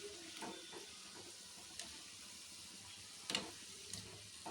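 Vada deep-frying in hot oil at home, a soft steady sizzle with faint bubbling crackle and a few louder spatters, no talk over it.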